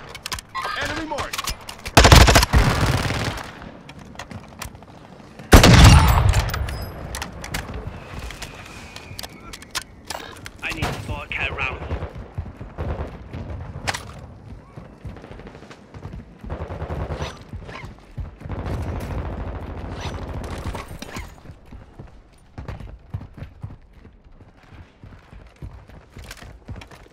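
Bursts of gunfire in the Call of Duty Modern Warfare II Warzone video game: two loud volleys early on, then scattered shots and rattling action, heard under radio chatter and voices.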